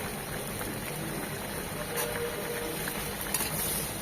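Hilsa fish broth with ridge gourd simmers in a pot, giving a steady, faint bubbling hiss with no voices.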